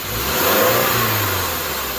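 A Subaru engine revs up to roughly 2000 rpm during an air conditioning recharge, a loud, steady mid-range engine drone that rises and holds close by for about two seconds with no talking.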